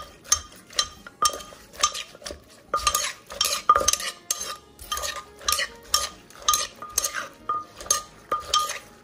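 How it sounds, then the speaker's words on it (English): Shrimp paste being mixed and dissolved for a Lao papaya salad makes a steady, rhythmic run of close scraping and knocking strokes of a utensil in a bowl, with no talking. "You want to make sure the shrimp paste well mixed or well dissolved."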